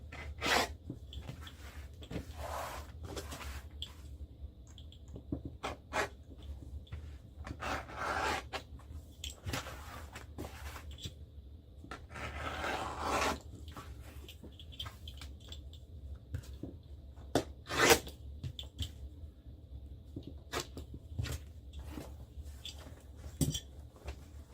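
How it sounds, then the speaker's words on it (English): Scraping and rasping cuts of excess leather-like material being trimmed from a handmade bear gun rig at the workbench, irregular short strokes with faint clinks, close and moderately quiet, no talking. "we're going to cut off this excess so it's easier to deal with."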